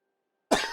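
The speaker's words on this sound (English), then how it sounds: "There's a cough again." A single sharp human cough bursts out close to the mic after half a second of silence, then trails off into a brief, rough tail.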